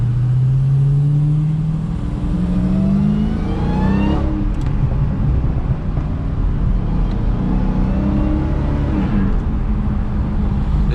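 A Dodge Hellcat accelerates hard with tires spinning, its engine roaring and rising in pitch through a gear, heard loud and close from inside the car with constant road and wind rumble.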